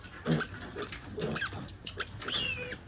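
Pigs on a farm grunting and squealing in short, close bursts, several overlapping snorts and a higher squeal near the end, with no talk.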